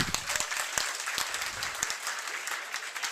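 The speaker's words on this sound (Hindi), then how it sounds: "मैं मैम का हार्दिक स्वागत करता हूँ एक बार तालियों के साथ" A seminar audience applauds to welcome a teacher, a dense wash of many hands clapping steadily with sharp individual claps standing out, holding even throughout.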